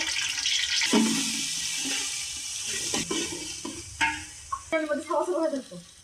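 Ginger and garlic go into a pot on the stove for biryani, giving a wet sizzle and hiss with scraping and stirring clatter, fairly close, while a voice talks over it.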